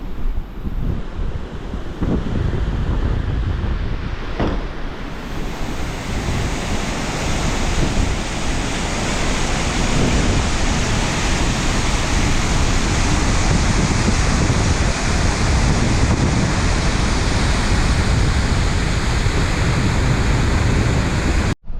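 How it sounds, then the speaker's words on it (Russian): Constant loud rush of a mountain stream in Ingushetia roaring without pause, broadband and close, water tumbling fast over rocks. "Подъезжаю к водопою, тут горная вода бежит."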